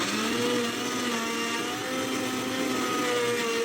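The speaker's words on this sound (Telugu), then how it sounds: "నేను ఇక్కడ జ్యూసర్ వాడుతున్నాను" Pieces of musk melon whirring in a juicer, a steady, loud motor drone with a sustained mechanical hum that holds constant for a few seconds before cutting off abruptly.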